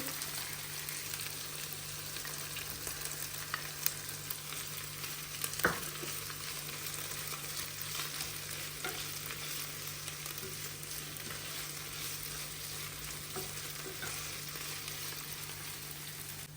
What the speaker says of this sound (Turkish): Hemen burada sucuğumuzu dökelim.